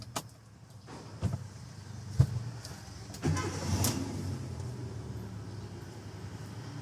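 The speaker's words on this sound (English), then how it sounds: "So let's start the car." A manual car's engine cranks and catches with a few knocks and clicks, then settles into a low, steady idle rumble heard from inside the cabin.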